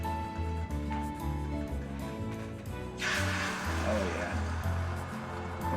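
Food sizzling in a hot cast iron skillet on a stove, a loud hissing crackle that swells midway, underneath music and a short spoken remark.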